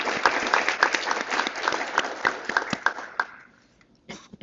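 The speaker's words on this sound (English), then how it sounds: "If we could give them a round of applause" An audience at an induction ceremony claps steadily with dense, overlapping hand claps, then tapers off to scattered claps and a brief final burst.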